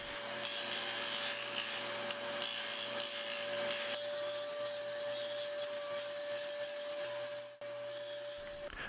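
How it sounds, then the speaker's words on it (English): Styrene being sanded on a small mini disc sander, a steady motor whine with a continuous raspy grinding and rubbing that runs evenly and dips briefly near the end. "doing the finishing touches on my mini disc sander"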